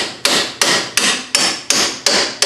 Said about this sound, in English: Where's my hammer? Just tap it back in.